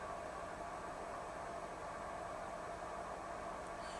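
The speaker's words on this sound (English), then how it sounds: "You can kind of really hear how that locomotive profile has now changed" A model locomotive's sound decoder with a seven-band equalizer boosting the low end plays a steady idling engine with its air compressor running. It is a faint, even, continuous hiss-laden drone with no pauses.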